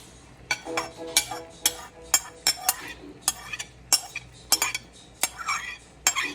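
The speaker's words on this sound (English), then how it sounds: "So honey's just gonna mix that in" A metal spoon clinks and scrapes inside a pot as chopped seasoning is stirred into thick, cooked-down coconut for Jamaican-style coconut dumplings; a close run of irregular sharp knocks, roughly a dozen, with quiet gaps between.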